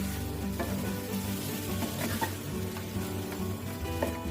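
Spice paste for mutton curry frying in a pan after half a cup of water is added, a steady dense sizzle with faint stirring scrapes throughout, close and unbroken with no voices.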